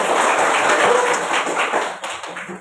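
Schoolchildren in a classroom clap together in dense, steady applause that fills the whole stretch, fading slightly near the end.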